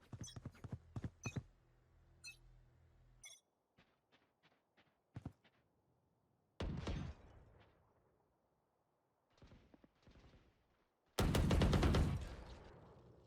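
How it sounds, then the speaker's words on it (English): Gunshots are fired through a wall in a competitive first-person shooter match: sharp single reports and short bursts, loud and close, separated by gaps, with heavier volleys near the end. "Taking a few pot shots through the wall, not going to hit anything."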